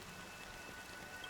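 Steady rainfall in Honkai: Star Rail, a soft, even hiss of drops pattering on surfaces, quiet and continuous throughout with no voices.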